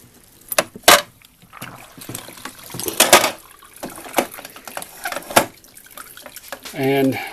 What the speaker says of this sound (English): I pick the basket out and I'm letting it dry, or letting it drip for a couple seconds here.